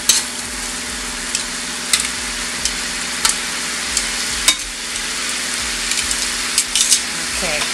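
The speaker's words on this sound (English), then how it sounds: "I don't want to overcook the shrimp while the sauce is cooking" Shrimp scampi sauce sizzles steadily in a pan, a bright constant frying hiss with occasional sharp clicks and stirring knocks, close and continuous without talk.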